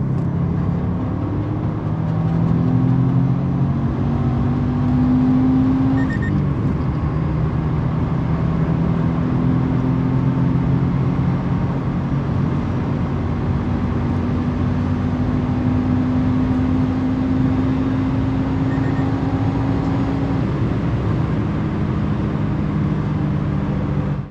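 A Subaru WRX STI WR1 with TOMEI exhaust and silencer fitted pulls hard from 4th gear between 100 and 200 km/h, a loud steady engine drone with slowly rising pitch heard from inside the car, with no voice present.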